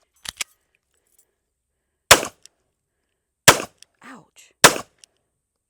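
Sharp, loud gunshots from a Smith & Wesson Bodyguard 2.0 pistol chambered in .380, several single cracks spaced a second or more apart outdoors, with a brief spoken exclamation between shots.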